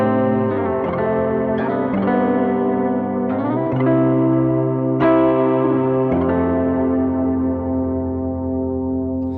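Guitar run through a Meris Mercury X pedal pitch-shifting it down a whole step, a series of ringing, heavily effected notes and chord changes with chorus-like shimmer and echo, sustained and fairly loud throughout.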